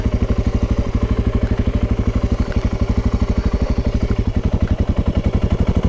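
A motorcycle engine thrums steadily up close with a fast, even pulsing rhythm while riding an off-road trail, loud and continuous with no talk.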